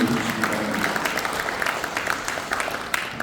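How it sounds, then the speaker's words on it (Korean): An audience at a Korean civic lecture event gives a guest sustained applause, a dense steady patter of many hands clapping throughout with no talk over it. "여러분 큰 박수로 환영해 주시기 바랍니다."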